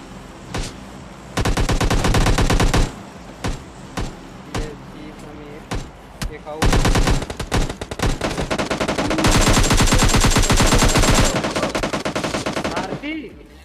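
Bursts of rapid automatic gunfire in a video game, loud and close, broken by short pauses and single shots, with a long sustained volley toward the end.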